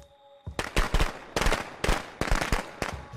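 A quick series of sharp cracking firework bursts in Friday the 13th: The Game, six or seven pops in uneven rhythm, loud and close after a brief quiet start.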